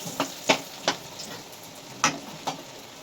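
Spoon scraping through a bowl of corn fritter batter for mokkajonna garelu, giving five or six distinct, moderately loud strokes at an uneven rhythm, with no talking.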